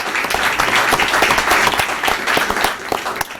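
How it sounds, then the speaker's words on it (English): Audience applause at a school board of education meeting, a dense, steady wash of many hands clapping together for the full stretch, moderately loud and without speech. "So let's give those 4 schools a round of applause."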